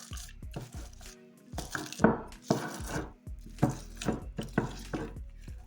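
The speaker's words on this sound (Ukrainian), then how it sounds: "Хорошо все перемішую ложкою поки що" Clinking and scraping of a spoon mixing soft curd cheese in a bowl, irregular knocks against the bowl's sides, close by with no talking.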